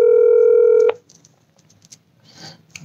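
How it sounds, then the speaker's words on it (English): A steady electronic telephone tone holds for about a second and then cuts off, leaving faint clicks and quiet rustling. "It's a ringing."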